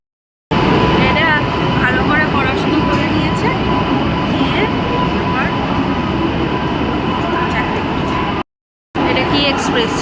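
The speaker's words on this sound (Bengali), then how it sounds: "এই ট্রেনটা জম্মু তাওয়াই থেকে আসলো" A train from Jammu Tawi rumbles loudly and steadily into a station with a broad roar, brief squeals above it, and a short dropout near the end; voices murmur underneath.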